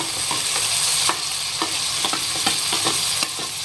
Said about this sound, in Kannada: ಹೈ ಫ್ಲೇಮ್ ಒಳಗೆ ಜಸ್ಟ್ ಒಂದು ಇಪ್ಪತ್ತರಿಂದ ಮೂವತ್ತು ಸೆಕೆಂಡ್ಗಳ ಕಾಲ ಈ ಥರ ಮಿಕ್ಸ್ ಮಾಡ್ಕೊಂತಾನೆ ಬೇಯಿಸ್ಕೊಳ್ಳೋಣ್ರಿ ಟಮಾಟಿ